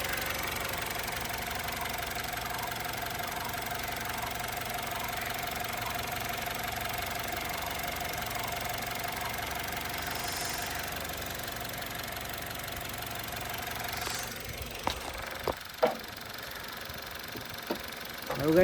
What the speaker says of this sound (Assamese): এইটো চাওক ইঞ্জিনৰ চাউণ্ডটো শুনাই দিছোঁ।